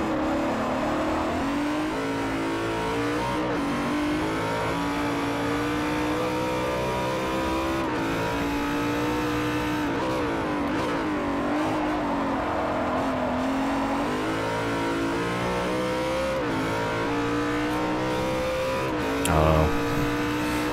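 Race car engines roar continuously in Forza Motorsport 4 during a GT2 multi-class event, with a Ferrari in the field, a steady loud drone with shifting pitch as cars rev and pass.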